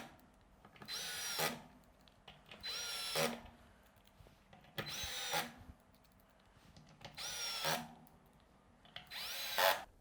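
A power drill drives screws into the underside of a desk work surface during assembly, with five separate bursts of whirring, each a second or so long and separated by short pauses, close and fairly loud.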